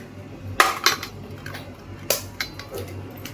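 Brownie batter with three eggs being mixed in a bowl: a few sharp clinks and scrapes of a utensil against the bowl, close, over a quiet background with no talking.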